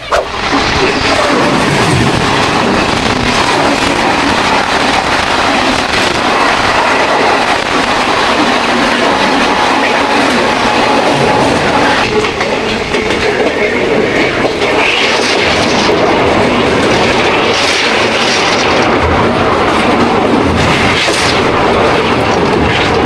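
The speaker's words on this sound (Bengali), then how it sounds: "দারুণ লাগলো এই পাহাড়ি এক্সপ্রেস জার্নি করে" Paharia Express passenger train on the Digha to New Jalpaiguri route, running on rails: a loud, continuous rumble and roar of wheels and carriages with rattling clatter throughout, heard from on board without talk.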